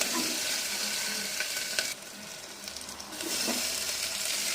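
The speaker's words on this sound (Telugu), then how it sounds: "పచ్చిమిరపకాయలు వేసాను. అది కొంచెం ఫ్రై అవ్వాలి. తర్వాత లైట్గా కరివేపాకు వేసుకున్నాను." Green chilies followed by curry leaves fry in hot oil for a Nellore-style coconut rice, giving a steady close sizzle and crackle with brief spatters and clinks, dipping quieter for a moment midway before the frying noise swells again.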